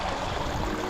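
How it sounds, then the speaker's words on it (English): A small stream of rain runoff flows steadily toward a waterfall, a close, continuous watery rush. "there wouldn't normally be a stream there, only for there's so much water."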